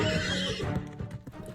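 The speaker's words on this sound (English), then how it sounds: "He leaves the frolic at the witching hour, crestfallen on the old horse Gunpowder" A horse whinnies loudly up close, the neigh trailing off into a few hoof clip-clops on hard ground, with no talking.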